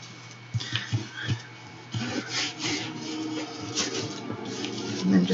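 Collage paper rubbed down onto a bag, a soft scratchy scuffing in short repeated strokes, close and fairly quiet, with a few dull taps.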